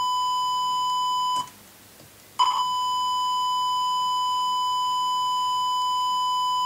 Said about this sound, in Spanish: Ese pitido que se oye es el sonido de 1 kHz que está aplicando.